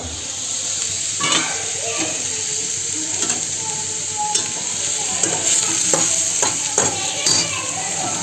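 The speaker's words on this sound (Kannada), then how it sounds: "ಎಣ್ಣೆಗೆ ಈರುಳ್ಳಿನ ಚೆನ್ನಾಗಿ ಇದನ್ನು ಬೇಯಿಸ್ಬೇಕಾಗತ್ತೆ" Onions fry in hot oil in a pan, giving a steady close sizzle with repeated scraping and clattering as they are stirred throughout.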